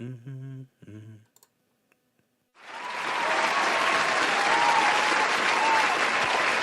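After a few spoken syllables, a pause and a faint click, a canned applause sound effect starts on a live stream and plays as a loud, steady crowd clapping, with some cheering, to the end.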